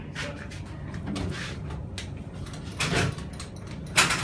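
A Schindler 300A hydraulic elevator at a high school, its sliding doors rumbling and clunking as they move, with several soft thuds and a sharper knock at the end, heard close inside the cab.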